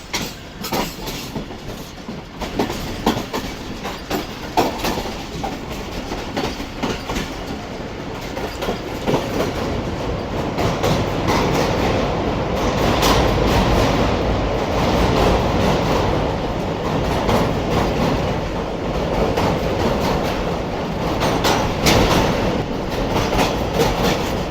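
Rehman Baba Express, an economy-class passenger train, running on the rails with steady wheel clatter and rumble that builds after a few seconds and stays loud and continuous.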